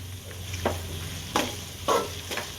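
Finely chopped tomato stirred into softened onions in a pan for Tamil fish curry, with several distinct scraping stir strokes over a low steady sizzle, fairly close.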